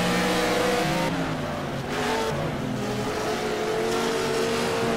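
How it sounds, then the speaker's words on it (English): Racing car engine at a Mission Bell 200 Gold Star race on track, a loud sustained roar with shifting pitch as it revs and changes gear, close and continuous throughout. "I can hear his engine."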